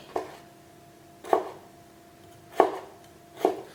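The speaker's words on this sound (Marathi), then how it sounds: "आमकां ही बॉयल फ्रेंच बीन आतां बारीक कातरूंक जाय" Boiled French beans are finely chopped with a knife on a board: four sharp, close strikes spaced about a second apart, each with a short ringing tail.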